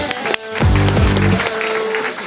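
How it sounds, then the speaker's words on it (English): An audience at a climate hackathon awards ceremony bursts into applause, a dense steady wash of clapping, with voices cheering and talking over it. "Round of applause."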